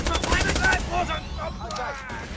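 An SMG in Borderlands: The Handsome Collection fires a rapid burst of crisp, close shots in quick succession, which then gives way to scattered in-game effects and a brief voice.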